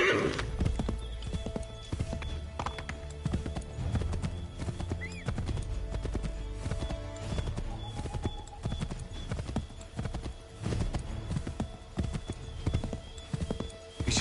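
A horse gallops in Assassin's Creed III, with rapid, continuous hoofbeats and an occasional whinny against steady game ambience.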